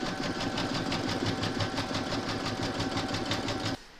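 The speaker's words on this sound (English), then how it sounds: "Pop your hoop into your machine and stitch round number 2, and that's going to secure it in place." An embroidery machine stitches vinyl onto a paw-print craft coaster with a fast, steady mechanical chatter. It runs loud and close for almost four seconds, then stops abruptly.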